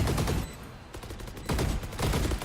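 Rapid bursts of gunfire from the Valorant video game in a pro match, two clusters of dense spraying shots separated by a brief lull, no voices heard.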